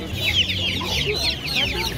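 Chicks and chickens for sale at a livestock fair in Kropotkin cluck and chirp continuously, several birds close by, with a low background hum and no talking.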